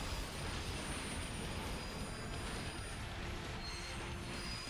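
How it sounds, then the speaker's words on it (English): A munitions train rolls past as a steady, broad rumble with faint wheel squeal. It holds at an even, moderate distance for the whole stretch, with no voices. "It's a munitions train."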